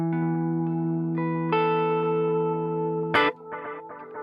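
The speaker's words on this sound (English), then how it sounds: "Now to add distortion into this one" An electric guitar through a BOSS GT-1000 pedal with distortion, sustained chords ringing out and changing, then a sharp strum and a few choppy clipped chords.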